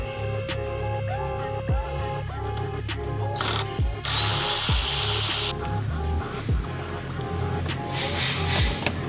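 A power drill whines in short bursts while backing out undershield screws beneath a 2020 second-generation Audi R8, ringing up close in a garage with one longer, steady run in the middle and clanks between.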